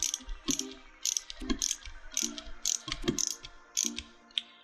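A screwdriver bit slips while driving a screw into a pumpkin, giving a rapid, uneven series of ratcheting clicks and grinding pulses at close range.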